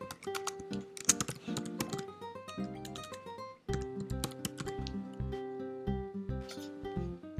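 Keys clatter on a computer keyboard while entering text into an Excel spreadsheet, a close, quick run of crisp clicks in uneven bursts with a brief pause midway.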